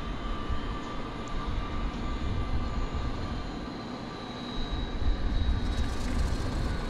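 A DC-3 aircraft engine starting in the Microsoft Flight Simulator 2020 game: a steady, loud broadband rumble and whir that builds slightly toward the end, with no speech.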